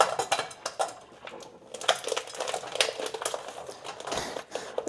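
Small pieces dropped into a metal cooking pot on a stove, a run of quick clinks and knocks at irregular intervals, close and fairly crisp, with no talking.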